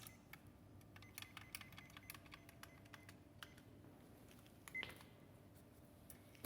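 A lab timer being set for ten minutes during a bacterial transformation procedure, with scattered button clicks and short electronic beeps over a quiet room hum.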